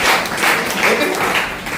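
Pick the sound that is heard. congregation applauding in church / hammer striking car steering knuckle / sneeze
congregation applauding in church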